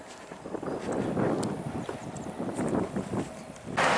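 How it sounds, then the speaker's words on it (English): Wind gusts buffet the microphone outdoors in a steady rushing roar that swells and dips, with a louder blast at the very end and no voices. "Oh, the wind."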